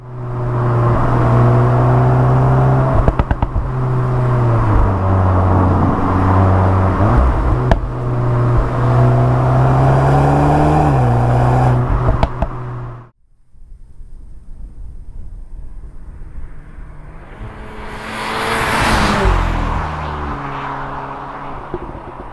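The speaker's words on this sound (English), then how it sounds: "let all that exhaust character come in" A Mk8 VW Golf engine and exhaust drone loudly from inside the car with a window open, the pitch rising and falling through gear changes before cutting off abruptly, followed by quieter road and wind noise that later swells as another whoosh passes.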